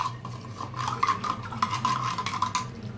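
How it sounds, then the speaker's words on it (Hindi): A spoon stirring custard powder and sugar together in a bowl, a steady close scraping and clinking of metal against the dish in repeated strokes, with no voices. "अब इनको हम अच्छे से मिक्स कर लेंगे"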